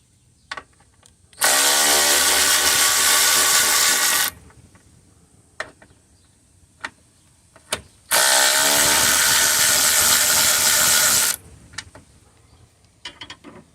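Two long, loud rattling bursts from a power tool loosening the radiator mount bolts on a 2002 Buick Regal, close up, with small metallic clicks and knocks between and after them.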